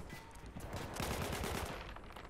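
Rapid bursts of gunfire crackle through a Battlefield 1 multiplayer match, continuous automatic shots building in the middle and easing off, heard alone without talk.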